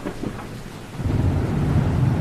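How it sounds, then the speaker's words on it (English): A low, heavy rumble of thunder swells and rolls on through a storm, loud and close with a rough, sustained texture and no voices. "he jumped and squealed as the thunder boomed"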